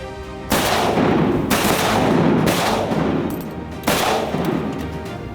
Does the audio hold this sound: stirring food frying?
no